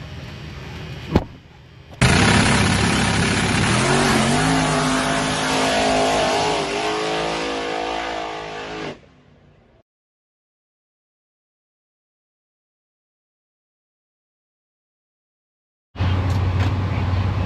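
A race car engine chugs and runs rough at an H-Town Throw Down drag racing event, a loud close rumble that holds for several seconds, then cuts out into silence before roaring back at the end.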